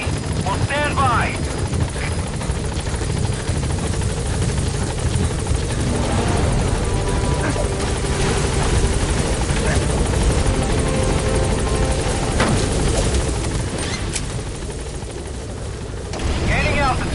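Pequod, the helicopter in Metal Gear Solid V: The Phantom Pain, arriving and landing at the LZ, a loud sustained rotor roar with whining turbine and thumping blades, a radio voice speaking over it.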